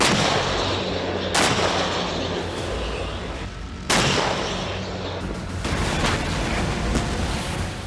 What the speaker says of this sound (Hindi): जिसमें पैदल सेना, टैंक और रॉकेट के धमाकों के फुटेज भी शामिल हैं